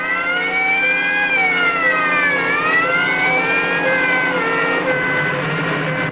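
Airport crash tenders race out with sirens wailing, several loud overlapping tones sliding up and down continuously over a rumbling engine, no voices.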